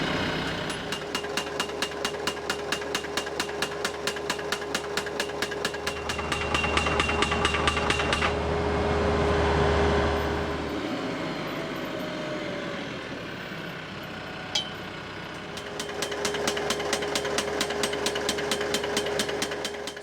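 A tractor-mounted post driver pounds 2 7/8 inch steel pipe posts into the ground in fast, steady metallic strikes, with a pause mid-clip while a diesel engine rumbles loudly alone before the hammering resumes.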